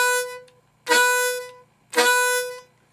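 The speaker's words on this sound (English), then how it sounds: "it sounds like this on the harmonica with the 4th hole" Tongue-blocked pull slaps on the 4th hole of a harmonica sound as three sharp, reedy blasts, each with a percussive attack and a bright chord that fades, close and loud with short gaps between them.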